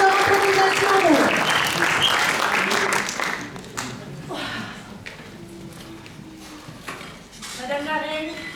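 Applause from the audience at an improv match, steady clapping from many hands that gradually thins and fades, with speech running over it near the start and again at the end.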